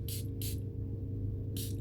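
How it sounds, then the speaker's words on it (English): Perfume fragrance sprayed from an atomizer onto the underarm: three short close hissing spritzes, two quick ones then a pause before the third, over a low room hum. "I'm just going to spray just underneath my arm here"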